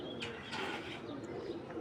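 Pigeons kept for flying and racing coo softly and steadily, with a few brief chirps. There is no talking and no other clear sound.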